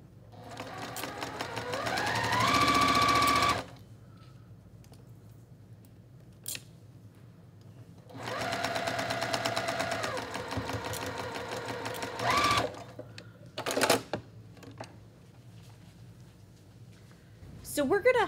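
Two bursts of a sewing machine stitching quilt block seams, a short run then a longer steady one, separated by quiet pauses with clicks and fabric handling. A snip or tap is heard near the end.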